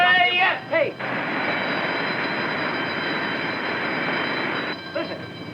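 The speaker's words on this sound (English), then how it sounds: "That's a siren on Blackwell's Island." A siren wails from Blackwell's Island, a steady broad droning tone holding for several seconds between brief voices at the start and end.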